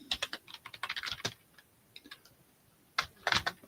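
Rapid keyboard typing in bursts of clicks, close and fairly loud, with a brief pause midway before a final flurry of keystrokes.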